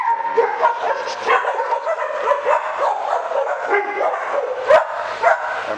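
Dogs at a training session yip, whimper and bark in quick, excited bursts, close by and fairly loud throughout.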